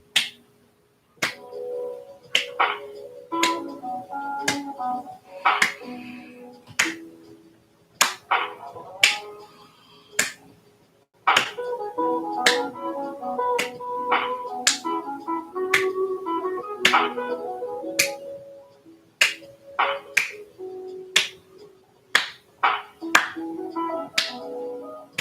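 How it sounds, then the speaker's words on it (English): One person claps to cheer on MrBeast contestants, giving crisp, sharp single claps at a steady, roughly one-per-second beat for about 25 seconds over soft background tones and murmur. "I don't really have a good clapping noise."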